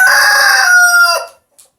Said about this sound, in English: He's a beautiful rooster, big Americana fella